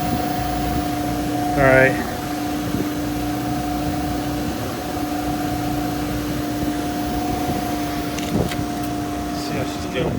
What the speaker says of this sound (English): Cheapo York sucking the insulation right into the blower motor.